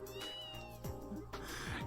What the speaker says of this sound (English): Antoine, the kitty cat.